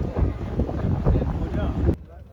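A steady, rumbling fishing trawler engine on the water near Teknaf, with wind buffeting the microphone, continuous and close, then cutting to a quieter hum near the end.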